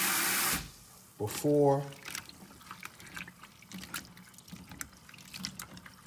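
Oxtails are rinsed under a running kitchen tap, with a brief loud gush of water followed by softer splashing and dripping, while a person speaks quietly.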